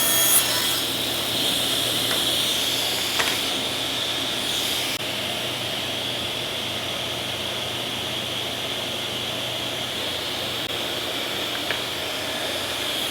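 A 52-inch table saw with an Incra fence cutting a wooden board, its steady broadband whir holding level throughout with a faint thump near the start and no talking.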